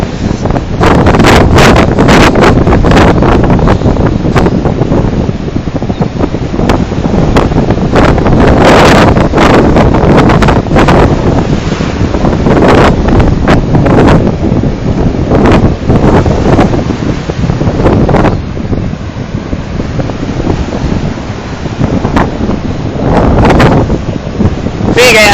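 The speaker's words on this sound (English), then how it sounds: "Welcome to Ocean View Beach during a coastal storm. It's like a hurricane out here." Roaring coastal storm wind with gusts near 68 mph batters the microphone nonstop at Ocean View Beach, with large crashing surf of roughly 8-foot waves churning underneath the constant loud rumble.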